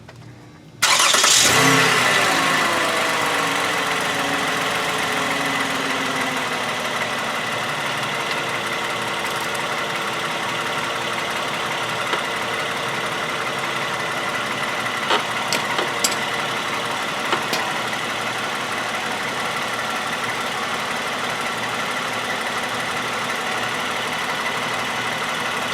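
A 2015 Toyota Highlander engine cranks and catches during a transmission flush, then settles into a steady idle. The rumble continues evenly with a few faint clicks.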